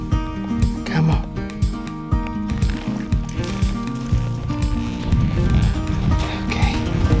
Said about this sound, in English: Uh-oh, my horse is stubborn.